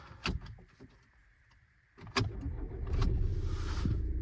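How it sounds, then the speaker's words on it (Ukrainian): A few clicks and clunks, then a Volkswagen Passat B7 2.0 TDI diesel engine cranks and catches quickly, settling into a steady close idle. "Машина заводиться з півоберту."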